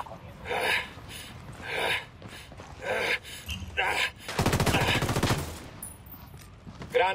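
Gunfire in the tactical shooter Ghost Recon Wildlands: scattered shots and short bursts early, then a dense rapid automatic volley in the middle, loud and close, with voices now and then.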